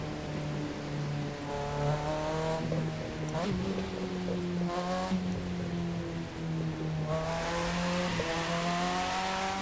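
Game car from The Crew 2 drifting, its engine holding a steady loud drone with shifting pitch as the tires squeal through a continuous slide, the noise rising again near the end.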